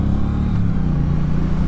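Triumph Bonneville T100/T120 motorcycle engine running steadily nearby, a loud, continuous low rumble with no talking over it.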